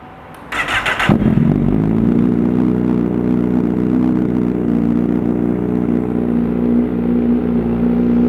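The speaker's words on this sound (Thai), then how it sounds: "มาครับฟังเสียงท่อคันนี้กัน" A Honda CBR1000RR motorcycle from 2017 with an Austin Racing aftermarket exhaust starts after a brief clatter, then settles into a loud, steady, deep idle that holds close up with no talking.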